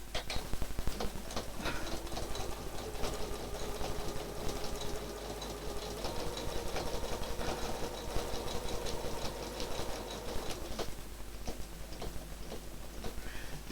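A sewing machine stitches in the ditch along a quilted seam, a quick steady run of rapid needle ticks and motor hum, fairly close and continuous with small shifts in pace and no talk.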